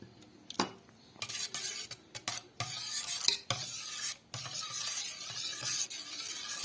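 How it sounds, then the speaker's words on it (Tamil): A spoon stirs chopped almonds and cashews into milk for a sweet milk sherbet, producing intermittent scraping and clinking against the vessel, quiet and close, in uneven bursts with brief pauses. "இப்போ நம்ம மிக்ஸ் பண்ண பாலோட வந்து நல்லா மிக்ஸ் பண்ணிக்கலாம்"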